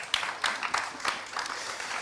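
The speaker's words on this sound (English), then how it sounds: "So please join me in giving them all a massive round of applause." A room full of attendees at a community mobilisation panel event applauds the speakers. The continuous clapping is moderately loud, with a few sharper claps rising out of the dense patter.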